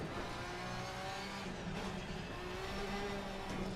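A race car in Assetto Corsa Competizione at Brands Hatch, engine droning steadily with tyres squealing in drawn-out tonal whines as the car corners, moderately loud and continuous without talk.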